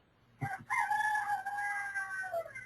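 Roosters crowing on a farm in the early morning, one long, loud, drawn-out cock-a-doodle-doo rising after a brief cluck and trailing off, close and clear with no talk.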